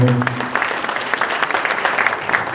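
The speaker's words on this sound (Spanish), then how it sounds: "Vamos a recibir con fuertes palmas al ingeniero" An audience at a water-issues forum breaks into sustained, dense applause to welcome an engineer to speak. The clapping is loud and steady throughout, with a few scattered crowd sounds.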